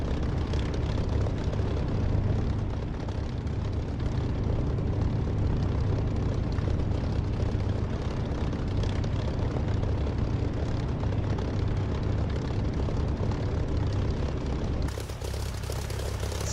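A Spitfire's propeller engine in the DCS flight simulator drones loudly and steadily throughout, a continuous close roar with no talking.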